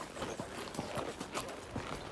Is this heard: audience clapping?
no